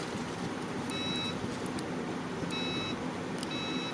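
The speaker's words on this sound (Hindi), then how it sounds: "देखिए ये स्विच मारने से आपका अलार्म बज रहा है और पीछे की तरफ भी जा रहा" Faint electronic beeps from an e-rickshaw reverse alarm repeat in short pairs at a steady pace over a constant low hum, fairly distant and quiet.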